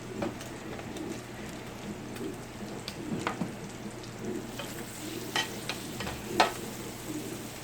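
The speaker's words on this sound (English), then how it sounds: "I'm going to add 3 tablespoons of butter right now." Butter sizzling in a pan with rendered pancetta for Brussels sprouts, a steady close frying hiss with scattered sharper pops and crackles, no talking.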